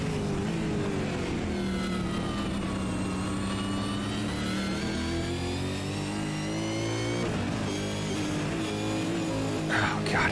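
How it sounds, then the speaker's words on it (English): A race car engine in iRacing at Sandown drones loud and close with shifting, wavering pitch as it starts to sputter, holding steady throughout with a brief rise near the end. "just listen as this car starts to sputter."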